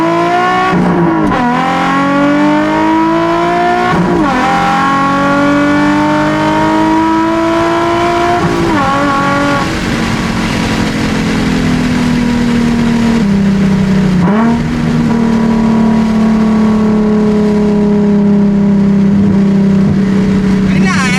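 Nissan 350Z/370Z with an aftermarket Tomei or ISR exhaust revving repeatedly, loud rising and falling engine pulls close by, ending in a sustained drone after a clutch dump, with voices faintly underneath.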